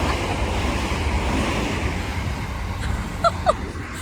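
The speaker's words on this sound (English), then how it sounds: "take the Shinkansen, aka the high-speed bullet train, from Tokyo to Kyoto" Shinkansen high-speed bullet train running from Tokyo to Kyoto, heard as a steady broadband rush and rumble from onboard, with a couple of faint brief chimes or tones near the end.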